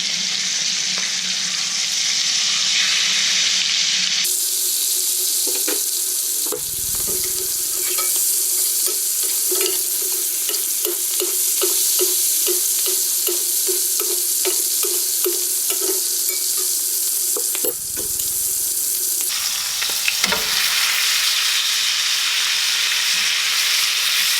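Prime ribeye steak searing in a stainless steel All-Clad pan, a loud steady sizzle with a run of rhythmic scraping and stirring strokes in the middle, and no talking.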